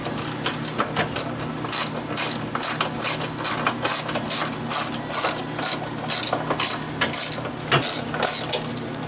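A ratchet clicks rapidly and steadily while undoing the transmission bolts on a Whirlpool top-load washer, close up, with brief pauses between runs of the mechanism.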